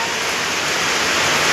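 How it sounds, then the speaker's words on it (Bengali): Rain falls with wind as a dense, loud, even hiss of noise, unbroken for the whole short moment. "বৃষ্টি শুরু হয়ে গেল আমাদের এখানে"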